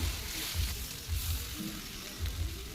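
Spice masala with salt and turmeric fries in a pan, a soft steady sizzle with low rhythmic thumps beneath it, continuous and fairly quiet throughout.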